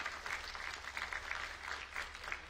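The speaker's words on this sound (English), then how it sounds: "Will you just give a round of applause to Sister Wadley?" A church congregation applauds a woman being honored during a Sunday service, a steady wash of many hands clapping at moderate distance for a few seconds without a break.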